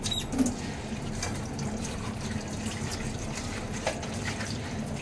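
Tap water runs steadily over potatoes being washed in a sink, a continuous close splashing flow with no talk.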